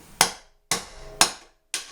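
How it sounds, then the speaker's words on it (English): A hammer strikes a screwdriver to knock out the seal of a Leisure Bay PS1000 spa pump, giving four sharp, close metallic knocks about half a second apart, each fading quickly into silence. "if you want to remove the seal here, you got to just take your screwdriver and your hammer"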